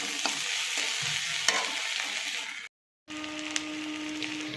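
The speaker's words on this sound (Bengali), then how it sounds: "মাছটা আমি দিয়ে দিচ্ছি, দিয়ে ভালো করে আবার মিশিয়ে নিচ্ছি" Fried fish pieces are stirred into a pan with eggplant and onion, making close scraping and frying sizzle that cuts out briefly to silence before resuming.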